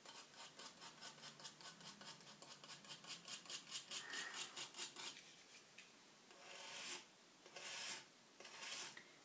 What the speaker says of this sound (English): Old craft knife should, in theory, create incredibly thin lines.